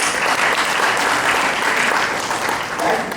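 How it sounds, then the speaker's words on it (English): Audience applause breaks out at a careers event, dense steady clapping at moderate volume that holds for a few seconds and eases slightly toward the end. "Let's give Ryan a round of applause."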